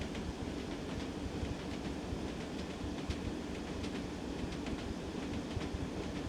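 A Class 101 diesel multiple unit rolls along track in Train Sim World, a steady dense rumble with faint rhythmic clicks from the rails, continuous and close with no talk.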